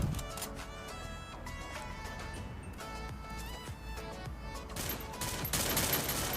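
Rapid bursts of gunfire from a Free Fire battle royale match crackle close and loud over a steady bed of game music, growing denser toward the end.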